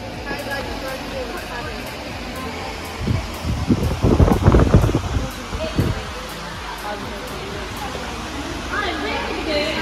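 Electric fans run in a wrestling akhada during a Teej celebration, a steady broadband whoosh filling the space while voices talk over it and a louder burst of activity swells in the middle.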